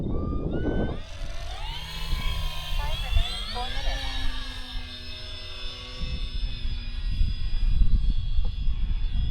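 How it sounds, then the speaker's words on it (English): Electric motor whine of a Durafly Tundra V3 RC plane in flight, rising and sweeping in pitch as it climbs and turns, then holding a steady high tone, with wind rumble and voices talking alongside. "You can just throw this plane around."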